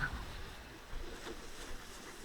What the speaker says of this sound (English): Not too many dangerous waves today.